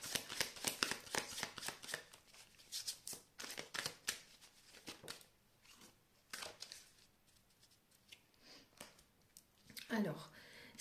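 Tarot cards are shuffled and drawn, giving rapid papery riffles and flicks that come close and faint, fading to sparse slides and taps while someone talks quietly.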